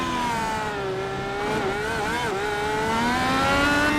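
Race car engines at Long Beach in iRacing, IndyCar machines, wail continuously at high revs, pitch rising and dipping through gear changes as several cars run close together, loud and steady throughout.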